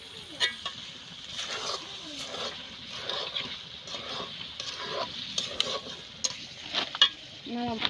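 Sakar fish cooks with water and cumin on a village clay stove while a utensil stirs it, giving close scraping strokes over a light sizzle, with occasional voices and background sounds in the outdoor setting.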